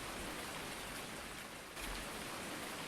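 Rain falling in Farming Simulator 19: a steady, even hiss of downpour, fairly faint and constant, with a brief dip and a slight swell partway through, no voices.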